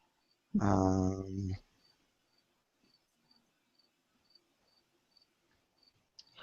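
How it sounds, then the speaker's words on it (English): A cricket chirps faintly and steadily in short, evenly spaced pulses through a quiet room, after a brief burst of voice at the start. "That cricket, I'll tell you,"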